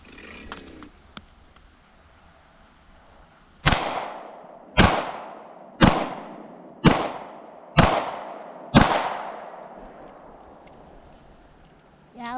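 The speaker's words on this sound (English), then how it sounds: "We're back from the range now, and enjoyed shooting the FN 509." An FN 509 pistol fires at a shooting range: six loud, sharp shots spaced about a second apart, each ringing out in a short echoing tail, after a quiet stretch of faint background sounds.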